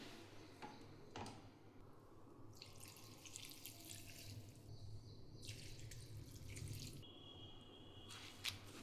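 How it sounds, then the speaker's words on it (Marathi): Chil (leafy greens) being rinsed by hand in water, with steady splashing and running-tap sounds, intermittent louder swishes and drips, close and continuous with no talk. "भाजी 2-3 पाण्याने व्यवस्थित अशी धुवून घ्यायची."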